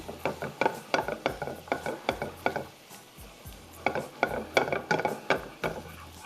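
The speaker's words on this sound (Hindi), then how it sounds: "अब हम सारी चीज़ों को करेंगे अच्छा सा स्टर" Black bean rice being stir-fried with a wooden spoon in a pan over high heat, giving rhythmic scraping and knocking strokes in quick bursts, with a short pause midway, close and fairly quiet.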